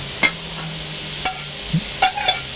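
Beef stir-fried in a wok under a constant sizzle, with a few sharp scrapes and clanks of a utensil against the metal, close and distinct.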